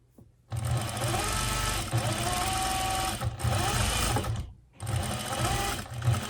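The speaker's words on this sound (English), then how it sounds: "I'm going to sew all the way up to the top, stopping 1/2 inch down" A sewing machine stitches wool hat panels for a cloche-style hat, running in loud, close, rapid bursts with brief stops between runs.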